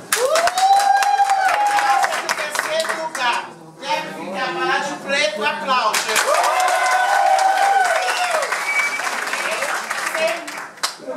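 Audience applause at a plus-size beauty pageant held in a bar: clapping mixed with loud whoops and cheering voices, swelling and dipping briefly before surging again, with a host's voice talking over parts of it.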